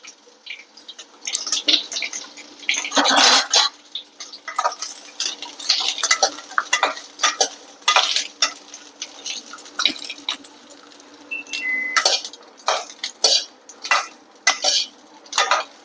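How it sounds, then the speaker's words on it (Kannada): Chili peppers frying in hot oil in a pan, steady sizzling with repeated scraping and clinking strokes of a spoon stirring, close and fairly loud with no talking. "ಇವಾಗ ಎಣ್ಣೆ ಹಾಕಿ ಹುರಿತೀನಂತ."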